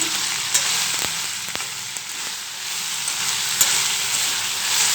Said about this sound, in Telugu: సిమ్లో పెట్టేసి దోరగా వేయించుకోవాలండి దొండకాయ ముక్కల్ని